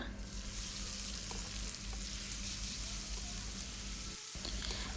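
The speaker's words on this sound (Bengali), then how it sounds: "পেঁয়াজগুলো একরকমভাবে ভাজা হয় পেঁয়াজগুলো যখন লাল লাল হয়ে যাবে" Onions fry in hot oil in a pan for a fish curry, giving a steady, close sizzle with faint stirring scrapes that runs throughout, briefly dropping out for a moment near the end.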